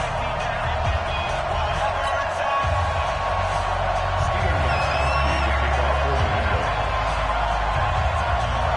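Steady roar of a sold-out stadium crowd in an EA Sports NFL video game, Patriots versus Dolphins, a dense continuous wash of cheering that holds loud and even throughout.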